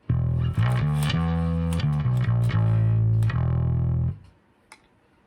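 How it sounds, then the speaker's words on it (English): Loud, heavily distorted electric guitar chords through a Damnation Audio MBD V3 distortion pedal ring out in a thick, buzzing sustain, then cut off abruptly into near silence. "it puts distortion into the kind of lower frequencies as you turn it up"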